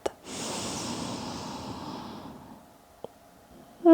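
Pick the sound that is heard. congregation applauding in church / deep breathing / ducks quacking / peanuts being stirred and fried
deep breathing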